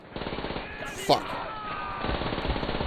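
Rapid machine-gun fire and gunshots rattle in Call of Duty: World at War, dense bursts with one sharp louder crack in the middle, while a voice talks over the shooting.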